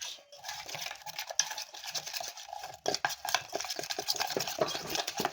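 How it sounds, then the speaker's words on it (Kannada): Spoon stirring a mixture of turmeric powder, chili powder and salt in a bowl, a steady run of light scraping and clinking taps with a short pause midway, close and fairly quiet. "ಈಗ ಅದನ್ನು ಚೆನ್ನಾಗಿ ಮಿಕ್ಸ್ ಮಾಡಬೇಕು"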